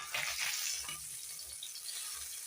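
Fish pieces frying in a pan in Bengali home cooking, a soft, fairly quiet sizzle with a few light bubbling pops close by.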